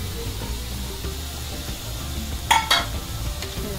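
Wet cashew seeds stirred into fried masala in a pan for a Konkani cashew curry, a steady low sizzle with a couple of sharp scraping clicks of the spoon near the end.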